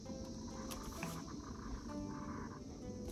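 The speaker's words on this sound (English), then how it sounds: "I'm pretty sure there's a cicada right out on the other side of this because I keep hearing it" A cicada buzzes steadily outdoors just beyond a wall, a continuous faint drone running through the whole stretch with no one speaking.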